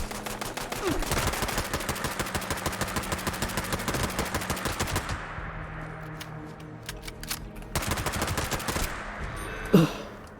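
Radium weapons in a video game firing in rapid bursts, a fast staccato rattle of shots that breaks off midway, resumes in another volley and ends with a sharp louder hit.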